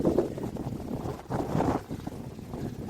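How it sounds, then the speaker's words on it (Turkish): Strong gusts buffet the microphone in a continuous low rumble that swells and dips throughout, outdoors on a bicycle tour. "Çok rüzgar var, uçamıyorlar."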